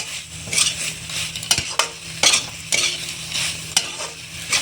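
Spices are stir-fried with raw banana and potato in a pan, a close, loud sizzle broken by repeated rhythmic spatula scrapes and knocks against the pot.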